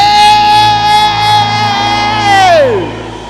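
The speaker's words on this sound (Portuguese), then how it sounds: "E se não sabe, dá uns gritos." A loud sustained shout rises from a church audience, holding a steady pitch before sliding downward as the noise fades.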